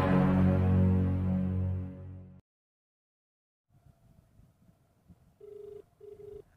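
An unanswered telephone rings in a quiet, eerie house, two short electronic ring bursts sounding faintly after a loud stretch of noise and a pause, with low rumble underneath.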